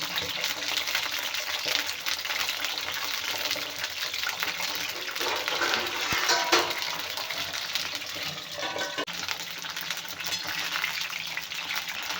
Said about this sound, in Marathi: आता आपल्याला सोडायचे आहेत वांगे हे वांगे आपल्याला फ्राय करून घ्यायचे तेलामध्ये